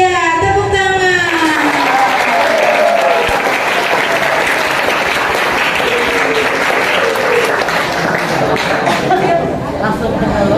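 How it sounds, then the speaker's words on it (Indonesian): Loud, sustained applause from an audience welcoming the head of Karangsatria community health centre at a dengue health talk, dense clapping over crowd voices with a speaker's voice audible at the start. "mari kita sambut Ibu Kepala Puskesmas Karangsatria. Tepuk tangan."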